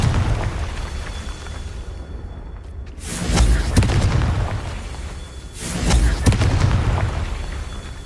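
A Confringo fire spell explodes in the video game Hogwarts Legacy, sending out two loud, deep booms a few seconds apart, each trailing off in a crackling rumble over steady ambient game noise.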